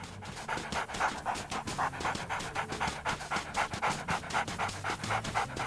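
A dog pants steadily in the WolfQuest video game, a fast, even rhythm of breathy huffs repeating close and clear throughout with no other sounds.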